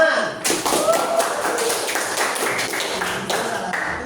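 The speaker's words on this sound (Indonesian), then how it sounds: "Tuh, tepuk tangan." Students clap their hands in a high school classroom, producing a run of sharp, uneven hand claps and taps that stay close and fairly loud, with some voices mixed in.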